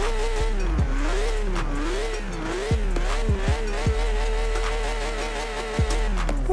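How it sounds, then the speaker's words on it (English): A Porsche 911 GT3 RS with a naturally aspirated flat-six engine revs hard in Forza Horizon 4 on a snowy road. The engine wails loudly and continuously, rising and falling through quick paddle-shifted gear changes. "It has 493 horsepower from a naturally aspirated flat six."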